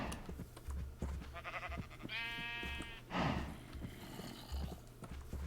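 Sheep in the Minecraft video game bleat in a couple of distinct, wavering calls over a low background hum, with faint clicks scattered between them.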